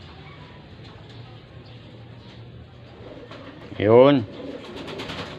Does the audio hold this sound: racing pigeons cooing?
yes